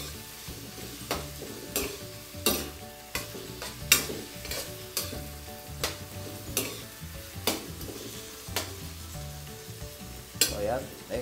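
Potatoes and Baguio beans frying in a pan with fish sauce, a steady sizzle broken by repeated loud stirring scrapes and clanks of a utensil against the pan, close and continuous with no talk.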